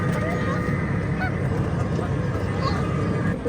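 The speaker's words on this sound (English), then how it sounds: "the trumpeting swan got its name by the trumpeting sound that it makes during flight" Wild waterfowl call in a series of honking notes outdoors at a safari park in Hamilton, Canada, moderately loud over a steady background murmur.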